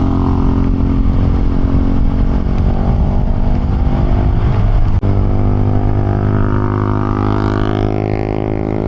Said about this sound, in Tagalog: Ang lakas ng mahatak ng motor niya.